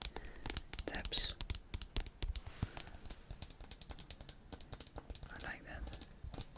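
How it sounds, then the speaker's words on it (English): Crisp, rapid fingernail taps clicking on an empty toothpaste tube's packaging, close and irregular, with soft whispering layered over the tapping. "That is some clicky taps."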